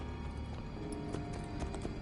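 Horse hooves clip-clop in a steady rhythm while riding in the Assassin's Creed 2 video game, moderately loud with a soft background.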